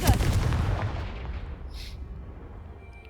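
Spell explosion from the video game Hogwarts Legacy, a loud booming blast at the start that rumbles and decays over a few seconds, followed by a faint high magical shimmer.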